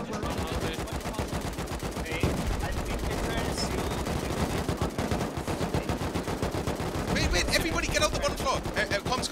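Rapid gunfire during a raid defence in the survival game Rust, dense repeated shots and automatic bursts running throughout, with voices talking over the shooting.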